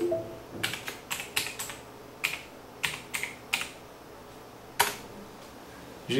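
A Windows login password is typed on a computer keyboard as a series of crisp, close keystrokes in short irregular clusters with gaps, the last key struck harder, in an otherwise quiet room with no talking.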